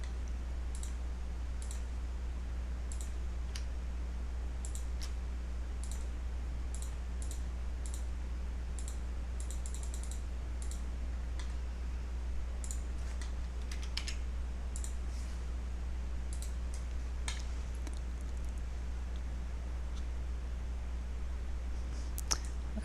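Faint, scattered computer mouse clicks from working in Varian Eclipse treatment-planning software, short taps spread irregularly across a steady low electrical hum, with no speech.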